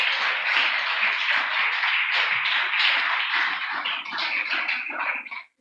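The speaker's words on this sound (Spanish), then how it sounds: "Quiere un aplauso al Espíritu Santo" A church congregation applauds, a dense steady wash of many hands clapping close by for several seconds before cutting off abruptly.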